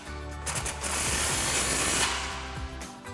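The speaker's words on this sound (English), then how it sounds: "Grab our impact and 15mm socket," An impact wrench with a 15mm socket tightens an exhaust clamp on the over-axle pipe of a 2011-2014 Mustang GT cat-back exhaust, a close, loud whirring hammer burst lasting a couple of seconds after short spins, with no talking.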